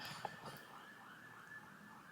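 An ambulance siren wails outside a room, a faint, steady electronic tone drifting slightly in pitch, distant and muffled with no talking over it.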